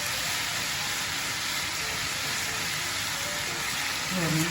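Chicken tikka masala fries on a tawa with a steady, even sizzle that holds at a moderate level throughout, joined by a brief scrape or stir at the very end.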